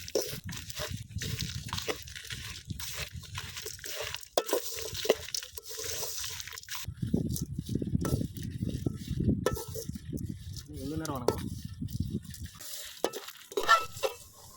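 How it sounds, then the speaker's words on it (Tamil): Grated coconut and spices roast in a pan for Chettinad chicken gravy, with steady stirring, scraping and a soft dry sizzle close by. "இது எல்லாத்தையும் ஒன்றா சேர்த்து நல்லா வறுத்து எடுத்துக்கோங்க."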